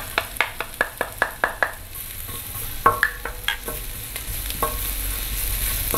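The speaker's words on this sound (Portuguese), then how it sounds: "vou colocar 3 dentinhos de alho para fritar também" Three garlic cloves frying in a pan beside calabresa sausage, a string of sharp clicks and taps from stirring over a soft continuous sizzle that grows a little louder toward the end.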